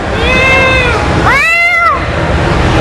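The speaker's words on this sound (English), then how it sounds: "That's a stray cat." A stray cat meows twice, a drawn-out nearby meow followed by a higher, rising-falling one, over steady background rumble.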